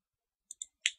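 Three quick mouse clicks in software, sharp and close, spaced unevenly, the last slightly louder, with silence around them.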